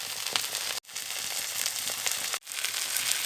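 Onions, bay leaf, green chili and cumin fry in hot mustard oil, a steady dense sizzle and crackle broken by two brief gaps, close and moderately loud with no talk.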